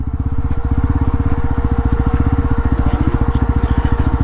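Yazdi Roadster motorcycle engine braking in first gear on a ride near Uttarkashi, a loud, close, rapid throbbing exhaust pulse that stays even and steady throughout, with no talk.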